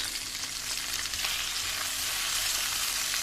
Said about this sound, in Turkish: kavrulan etimize iki diş sarımsak, bir küçük boyda havuç ekliyoruz